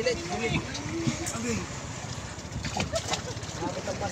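Strong waves slosh and splash against a small wooden outrigger boat being pushed along in shallow water, a continuous rough churning close by, with voices talking over it.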